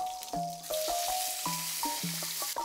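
Marinated chicken breast from Sagada sizzles softly as it pan-grills in olive oil and butter, a low steady crackle broken by light clicks and pops.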